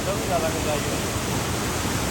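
Canal water rushes through opened sluice gates on the Sutlej, a loud, dense, unbroken roar of flowing water close by that fills the whole clip.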